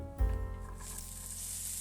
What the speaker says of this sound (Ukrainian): Подаємо олійку на розігріту сковорідку обов'язково. Починаємо обсмажувати цибулю.